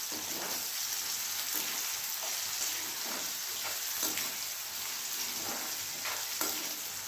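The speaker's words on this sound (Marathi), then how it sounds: "हा कांदा कापला मी आणि हा तेलामध्ये टाकला." Chopped onion fries in hot oil with a continuous, even sizzle, close and steady, with occasional soft stirring scrapes and no talking.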